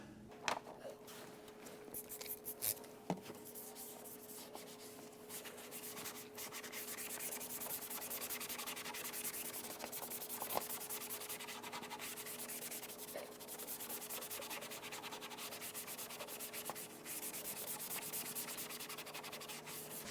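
A rag rubbing over old, aged black rubber exterior trim, giving a steady, quiet scrubbing and swishing that carries on close up, with no talk.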